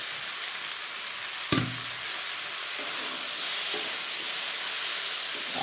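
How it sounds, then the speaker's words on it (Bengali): Fried fish heads drop into a pan of sizzling Malabar spinach greens, with a sharp clatter near the start, then a steady hiss of frying and occasional stirring scrapes, close and fairly loud. "ভেজে রাখা মাছের মাথাগুলো আমি দিয়ে দেবো।"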